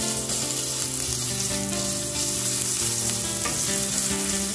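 Garlic frying in olive oil in a very hot pan, a loud, dense, continuous sizzle and crackle with faint stirring, no talk over it.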